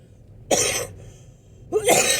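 Two harsh, close coughs sound about a second apart from people hiking at Meeman-Shelby Forest State Park with their sinuses acting up, the second cough rougher and longer, with near silence between them.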